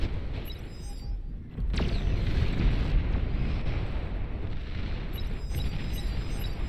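Heavy rumbling blasts from nuclear strikes fill a late-game battle in the strategy game Beyond All Reason, a sustained deep roar after a sharp onset, with faint electronic game tones over the top.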